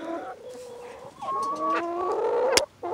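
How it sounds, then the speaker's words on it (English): Turkeys cluck and gobble close by on a farm, a few short calls and warbling notes with a sharp squawk near the end, heard alone without talk. "The turkeys over there just chilling too."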